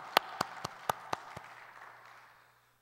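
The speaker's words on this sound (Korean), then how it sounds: "여러분 계신 곳에서 우리 하나님께 영광의 박수를 함께 드리면 좋겠습니다" Six sharp, separate claps ring out in a church, evenly spaced over about a second, then a reverberant tail fades into quiet.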